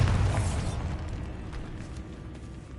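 A Bombarda blasting spell explodes in a video game: one loud, deep burst at the start that decays into a low rumble over a couple of seconds.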